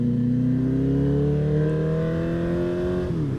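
A 2018 Honda CB1000R motorcycle engine pulls under light throttle in traffic, a loud steady harmonic drone rising slowly in pitch, then briefly dipping near the end, with no talking.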